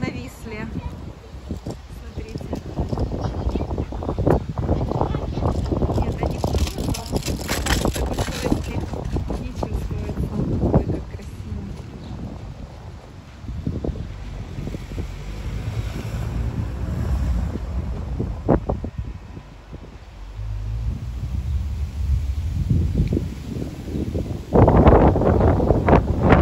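Strong wind gusting by a lake in Kyiv, buffeting the microphone with loud rumbling bursts throughout, while a person talks over it.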